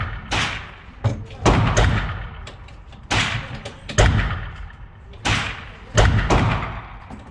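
Pistol shots bang at an indoor shooting range, about eight loud, sharp reports spaced irregularly a second or so apart, each with a booming echo, and speech faintly in between.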